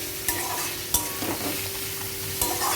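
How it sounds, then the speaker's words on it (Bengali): Onions frying in a pan while being stirred to brown, a soft steady sizzle punctuated by three sharp spatula scrapes, close and moderately quiet, with no voices. "পেঁয়াজটা বেশ একটু লাল লাল করে ভাজবো।"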